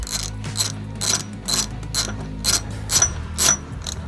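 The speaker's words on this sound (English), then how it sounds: "Change the direction of the ratchet and work it on by hand." Rapid ratchet clicks from a wrench tightening a peg nut onto an SE Bikes Beastmode Ripper BMX bike, coming in repeated short bursts roughly every half second, close and fairly loud with a faint mechanical hum underneath.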